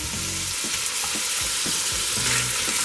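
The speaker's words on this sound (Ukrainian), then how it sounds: "ще трохи обсмажуємо 2-3 хвилини." Steady loud sizzling of diced vegetables, celery and potato, frying in a pan, with occasional stirring scrapes over the constant hiss.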